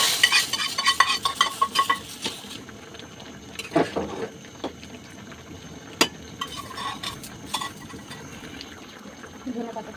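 Fried dal tempering is tipped into a pot of lentils with eggs and stirred, giving a soft, uneven spoon scraping and clinking against the pot with a faint sizzle beneath and brief muffled sounds between strokes.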